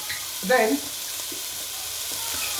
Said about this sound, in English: I'm going to let that to sort of simmer and show juices